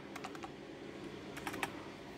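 Quick, faint clicks of typing on a small computer keyboard come in short bursts, close by with no voices.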